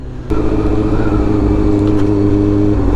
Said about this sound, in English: There's so many street bikes out today and I love it.